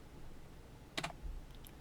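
A quick cluster of soft keyboard clicks, typing an AutoCAD trim command, midway through an otherwise quiet, hissy stretch.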